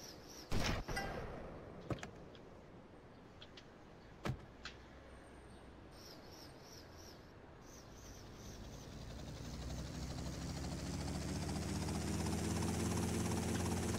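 In Grand Theft Auto: Vice City Stories, a few sharp pops and clicks give way to a rising, whirring helicopter engine that grows louder and steadier over the final seconds.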